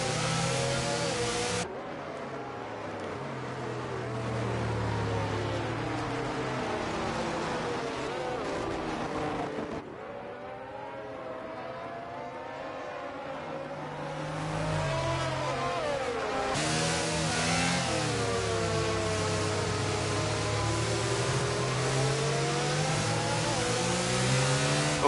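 Race cars bunched behind the safety car in a Brazil round of a racing video game; steady engine drones with repeated revving and gear changes, sometimes louder and nearer, filling the scene continuously.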